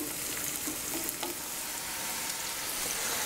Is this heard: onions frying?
yes